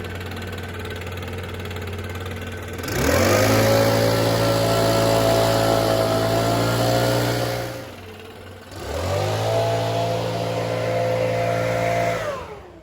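A Stihl backpack blower fitted with a homemade PVC gutter-cleaning attachment roars up from idle twice, holding a loud, steady whine each time before dropping back, close by on the ground.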